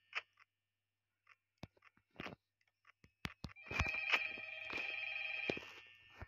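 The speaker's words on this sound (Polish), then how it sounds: "O, telefon." A telephone rings in the horror video game Five Nights at Freddy's, played on a mobile version. Scattered clicks and taps come first, then a sustained, loud electronic ringing builds and continues alone.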